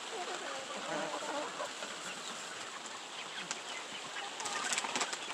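Turkeys flap their wings and flutter in a farm coop on a rainy day, a steady busy rustle of feathers with some faint bird calls, strongest in a burst near the end.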